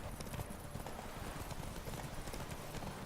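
Geralt's horse Roach gallops in The Witcher 3 video game, a steady fast clip-clop of hooves that runs through the whole stretch at low volume.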